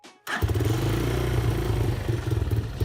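A Lifan 200cc motorcycle engine, repaired after loss of compression, cranks and catches after a brief quiet moment, then runs steadily with a loud, lumpy, close-up idle.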